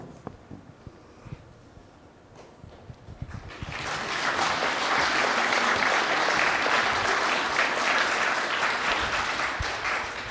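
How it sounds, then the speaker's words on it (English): At a software developer conference hall talk, the audience breaks into full, sustained applause after the talk ends. It starts abruptly after a few quiet seconds and stays loud and dense to the end. "Just to echo that round of applause"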